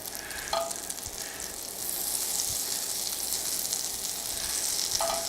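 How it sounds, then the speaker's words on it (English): Butter melts in a pan on medium-high heat, giving off a steady, soft sizzle with faint crackles and occasional small pops. "let's go ahead and melt some butter down"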